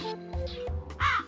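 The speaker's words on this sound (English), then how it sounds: "Remove rebellious crows with a hat." Several loud, close crow caws ring out in a Peppa Pig mobile game, harsh nasal calls in quick succession over steady game music.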